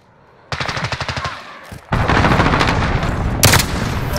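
Automatic gunfire in Call of Duty: Modern Warfare (2019), two loud close bursts of rapid shots separated by a brief gap, the second burst longer and denser.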